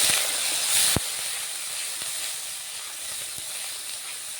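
Spice paste of ginger-garlic, salt, cumin, coriander, chili powder and turmeric sizzles loudly in a pan as a little water is added for a chicken-stuffed potol dolma, a steady dense hiss with one sharp crackle near the start.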